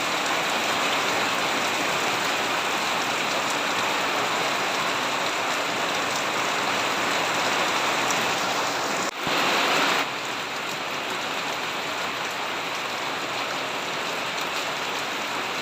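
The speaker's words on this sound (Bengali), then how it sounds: "সকালবেলা দেখেন কত জোরে বৃষ্টি আছে" Heavy morning rain falls in a steady, loud, unbroken roar of drops on surfaces, with a brief shift in texture partway through before the downpour carries on.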